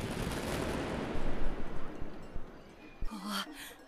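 Fireworks bursting in a video game, a dense crackling barrage of rapid pops that swells, then thins into a few sharp separate bangs and a brief ringing tone near the end.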